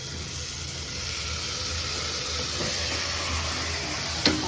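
Tomatoes dropped into a pan of sautéed small onions (shallots) sizzle with a steady, close frying hiss, and one sharp sputtering pop comes near the end; no one speaks.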